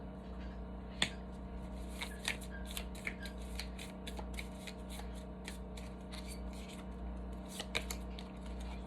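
Tarot cards are shuffled and drawn by hand, giving quiet, crisp flicks and papery snaps at irregular intervals over a steady low background hum, with no talking.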